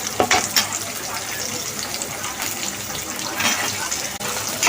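Cut onions and whole spices fry in oil in a pan, hissing and crackling steadily, with clinks and stirring scrapes that grow louder toward the end.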